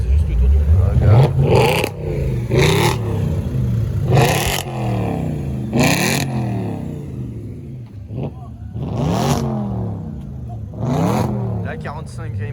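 Nissan Skyline pulling away on the street with repeated revving bursts and gear-change climbs that fade and return, heard outdoors under people talking nearby.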